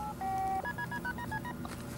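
Electronic keypad tones from a SEAL Magnaphone MX-2020 secure satellite phone: a short run of clear, close beeps, one long tone followed by several quick, evenly spaced presses, with faint room noise underneath.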